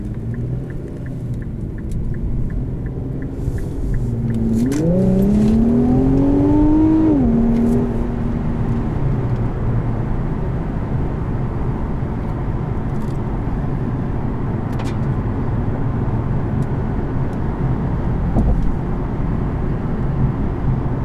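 2020 Infiniti Q50S Red Sport with a 400-horsepower engine and 7-speed automatic pulls hard, its engine note climbing through a rev rise then settling into a steady loud cabin rumble with no talk.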